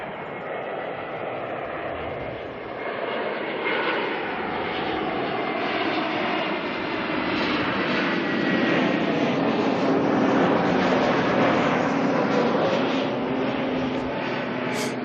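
An Airbus A321neo jet arriving at Auckland Airport on a flight from Adelaide: a steady, loud roar of engines and rushing air that swells gradually as it nears, then holds strong for the whole stretch, with no voices.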